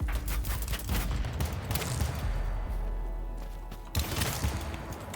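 A SCAR automatic rifle fires in the Battlebit shooter game, rapid loud automatic bursts with a short pause near the middle before firing resumes, heard close up.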